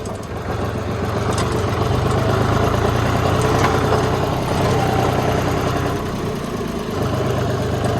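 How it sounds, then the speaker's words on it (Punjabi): An old tractor engine runs at a steady idle, with a loud, continuous low rumble and a rough knocking texture that holds for several seconds, close by and with no speech. "ਟਰੈਕਟਰ ਬਹੁਤ ਪੁਰਾਣਾ ਹੈ"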